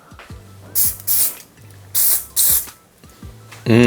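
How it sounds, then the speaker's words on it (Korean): Hairspray misted onto hair while styling a high ponytail, four loud hissing bursts in two pairs, each lasting about a third of a second, close to the mic. "스프레이인가요?"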